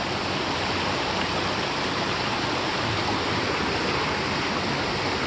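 A swollen river rushes after a flood, a dense, unbroken roar of moving water at constant loudness with no voices.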